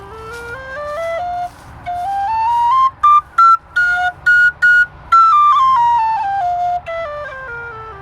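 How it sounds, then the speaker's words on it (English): A breathy, mellow low F tin whistle plays a slow melody, rising then falling in stepwise notes, with a few short detached notes in the middle; no talking. "you can hear it's a softer whistle"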